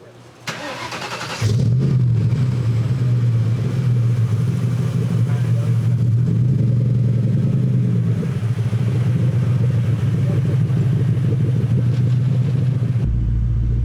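A home-built Shelby Cobra replica with a Mustang drivetrain swap starts up and drives on the street. A loud, steady engine rumble rises and falls with revs under occasional talk, then cuts off abruptly near the end.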